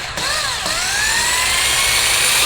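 A power drill drives screws into a PVC flattening jig, whining loud and close in a steady rising pitch after a brief stutter at the start.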